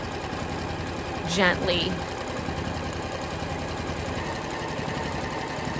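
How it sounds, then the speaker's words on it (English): A sewing machine with a walking foot quilts wavy lines as the fabric is fed unevenly, giving a steady mechanical hum throughout while a person speaks briefly over it. "I'm just feeding the quilt kind of wonky through the machine."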